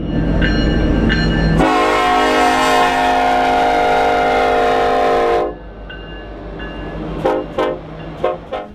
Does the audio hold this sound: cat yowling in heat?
no